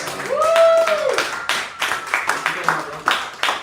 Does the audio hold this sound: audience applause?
yes